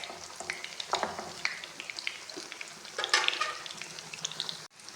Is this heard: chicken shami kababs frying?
yes